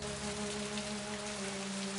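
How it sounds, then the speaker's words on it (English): Steady light drizzle from a video game patters continuously, a dense even hiss of raindrops on a surface with a faint tonal hum underneath and no voices. "Oh, just a drizzle."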